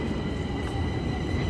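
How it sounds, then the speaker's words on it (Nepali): A metro train arrives at Crangasi station in Romania with a steady, fairly loud rolling rumble and rail noise throughout, and no voices. "अब म जानेवाला मेट्रो पनि ट्याक्क 1 मिनटभित्रमा आइपुग्छ है त"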